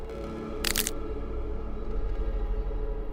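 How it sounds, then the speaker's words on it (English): A quick cluster of sharp, dry cracks snaps out once over a low, steady background hum. "making a cracking sound as they go."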